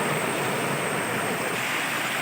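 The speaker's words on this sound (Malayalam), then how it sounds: "പാറ ഇടയിലൂടെയാണ് വെള്ളം ഇങ്ങനെ ഒഴുകുന്നത്" Water rushing between rocks at a Kottayam waterfall, a dense, steady roar filling the short stretch without a break.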